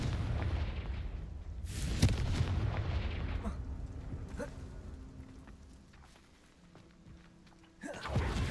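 Confringo blasting curse exploding in Hogwarts Legacy, a loud booming blast over a rumbling game backdrop, followed by fading crackle and a second burst at the end.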